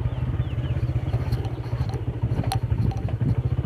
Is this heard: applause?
no